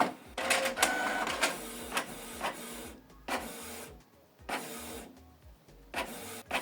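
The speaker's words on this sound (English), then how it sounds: "So we are printing this black at the moment." A Canon Pixma TS3751i inkjet printer prints a document in black, a series of close mechanical whirs, clicks and feed pulses in an uneven rhythm with short quiet gaps between passes.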